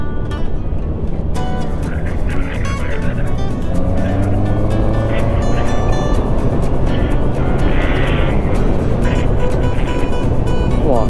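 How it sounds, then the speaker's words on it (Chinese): A car engine is revved hard and accelerates on a road trip around Taiwan. A loud, steady roar with road noise fills the whole stretch, and faint voices may sit underneath. "我耳机就听到你们在灌油门的声音"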